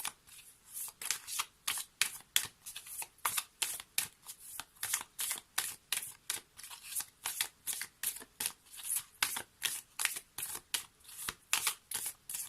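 A deck of oracle cards shuffled over and over, a long regular series of crisp riffling bursts close to the listener with short pauses between them and no talking.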